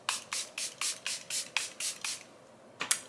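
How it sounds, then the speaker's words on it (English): Makeup finishing spray hisses from a pump bottle in about eight quick even bursts. After a short pause one final burst follows, close to the listener and with no voices. "let's do a classic finishing spray without getting our hair too wet"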